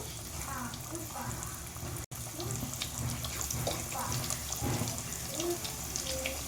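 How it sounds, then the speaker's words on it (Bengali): Jackfruit candies frying in hot oil over low to medium heat give a steady, close sizzle and hiss, with a person talking over it. "আমার তেলটা গরম হয়ে গেছে এবার আমি এঁচুর ক্যান্ডিগুলো দিয়ে দেবো"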